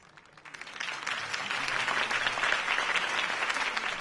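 Crowd applause after Harvey Dent's campaign speech in Batman: The Telltale Series: dense, steady clapping from a large audience that swells in the first half-second and holds loud to the end.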